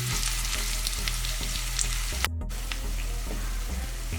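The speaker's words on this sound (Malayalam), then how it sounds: "നമ്മൾ സവാള, വറ്റൽമുളക്, കറിവേപ്പില ഇട്ട് നമുക്കിതിനെ ഒന്ന് വഴറ്റി കൊടുക്കാം." Onion, dried red chilli and curry leaves sauté in oil for a Kerala fish curry with ground coconut, with a steady close sizzle, faint stirring taps and a brief sharp spray burst midway, with no one talking.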